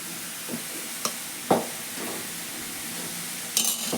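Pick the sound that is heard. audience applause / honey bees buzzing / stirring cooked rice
stirring cooked rice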